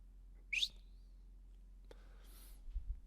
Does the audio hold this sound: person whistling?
yes